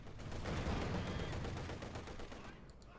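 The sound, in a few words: ZiS-3 divisional field gun firing, video game Company of Heroes 2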